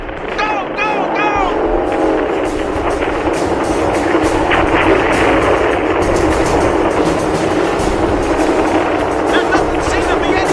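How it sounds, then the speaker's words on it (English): Radio-drama battle effect of gunnery positions firing on an object: rapid, repeated gunfire bursts over a loud, continuous rumbling engine roar, with an excited voice shouting near the start. "All the gunnery positions have opened fire!"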